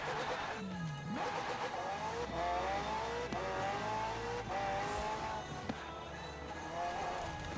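A McLaren supercar with a twin-turbo V8 and electric assist accelerates in Forza Horizon 4, its engine note climbing steadily through several gear shifts, loud and continuous with a brief tire squeal.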